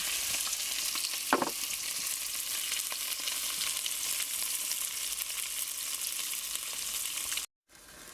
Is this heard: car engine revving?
no